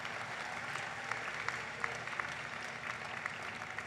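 Graduation audience applauding the APA Vocal Ensemble: a soft, distant wash of many hands clapping steadily, with a few sharper individual claps standing out throughout.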